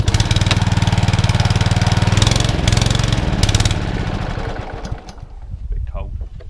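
A cold Mountfield lawn mower with a broken throttle lever runs loud and close on choke, its engine chugging steadily before sputtering and fading down after about four seconds.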